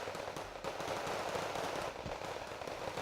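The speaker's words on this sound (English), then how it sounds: "A rather deadly exchange of CQC fire" Close-quarters gunfire in Wargame Red Dragon, a dense continuous crackle of rapid shots and small pops filling the whole stretch at steady moderate loudness, with no voices.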